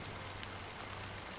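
Rain in the video game Honkai Star Rail, a soft, even hiss of falling drops, faint and continuous for a brief moment with a low hum beneath and no voices.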